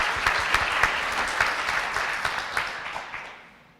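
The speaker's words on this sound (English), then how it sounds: "So I want to give them a big round of applause" An audience at an anniversary celebration with keynote speakers applauds warmly, dense clapping with a few sharper individual claps standing out before it fades away over the final second.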